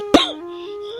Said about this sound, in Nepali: तिमीलाई यो खोकीले पनि कहिल्यै नछोड्ने भयो बुढा।